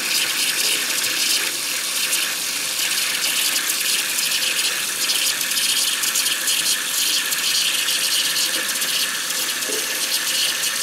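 Steady broadband rush and gurgle of water as a Makro waterproof metal-detector pinpointer is held fully submerged, continuous and close with no talking.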